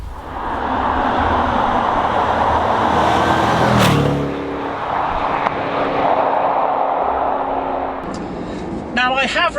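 A 2019 Jaguar F-Pace SVR driving down the road, its loud, steady engine and road roar filling the cabin, with a brief surge near the middle and a few faint clicks toward the end.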